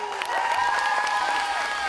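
A university audience applauds at a student spring festival, with steady, dense clapping throughout and a few whistle-like tones or cheers riding over it.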